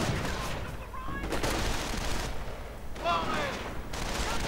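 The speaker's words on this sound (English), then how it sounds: "And another rifleman goes down to sniper fire." Gunfire in a multiplayer war video game, with bursts of rifle and machine-gun shots and booms over a dense battle backdrop, while a commentator talks over it.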